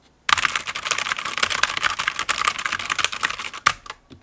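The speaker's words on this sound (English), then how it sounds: "This is the speed I type, just normal typing speed." Rapid, steady typing at normal speed on a budget mechanical keyboard with a metal top plate, a close, dense run of clicky keystrokes that starts abruptly and stops after about three and a half seconds.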